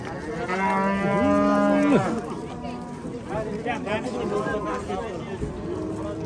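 Cattle at a busy open-air livestock bazaar let out one long, loud, nearby moo, while traders chatter and bargain in the background and hooves and crowd murmur continue.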